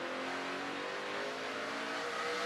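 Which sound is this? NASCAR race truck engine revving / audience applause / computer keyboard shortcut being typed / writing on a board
NASCAR race truck engine revving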